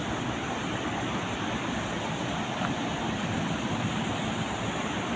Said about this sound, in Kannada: ಜಲಪಾತದ ಸದ್ದಿನ ಎದುರು ನಾವು ಮಾತಾಡಿದ್ದೆಲ್ಲ ಭಾಳ ಚಿಕ್ಕದಾಗಿ ಕೇಳಿಸ್ತಾ ಇದೆ ನೋಡಿ